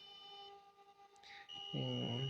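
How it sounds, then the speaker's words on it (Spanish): A steady electronic alarm tone sounds continuously, followed near the end by a louder pulsing, warbling beep. "se enciende la alarma"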